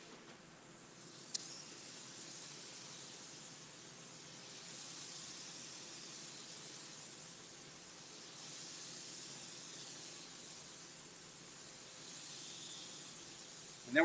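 A spray gun lays candy paint onto a Road King motorcycle, producing a faint, steady airy hiss that runs continuously, with a brief click near the start and another at the very end.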